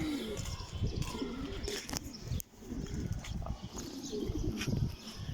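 Steady, low cooing of pigeons fills the scene, with overlapping calls and a busy ambient bustle and faint chirps throughout.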